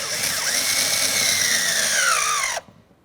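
Power driver with a 7mm socket running mounting screws in a 2001-2005 Ford Explorer Sport Trac door, one continuous whine whose pitch slowly drops as the screw tightens, then stops abruptly.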